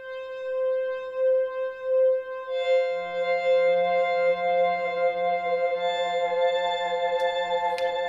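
Sustained electric guitar notes with modulation effects from Logic Pro X plugins, dry and without reverb, a second lower line joining partway through; no voices.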